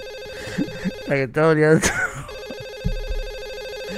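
A phone ringing inside a video game, a steady electronic tone that carries on under someone speaking loudly over it.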